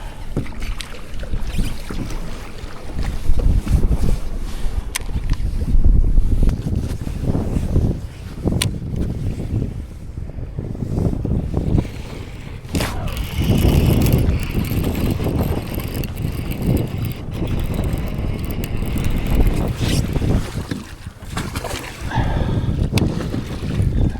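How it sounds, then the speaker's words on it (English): Waves and gusting wind buffet a fishing kayak on open water, a continuous loud rushing wash with splashes and wind noise on the microphone throughout, no voices heard. "Where are these waves coming from?"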